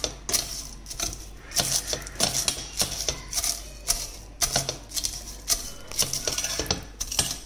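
Dried eggshells crushed into tiny pieces with a utensil, a run of quick, sharp crunching and clicking strokes in an uneven rhythm, close up with no talk.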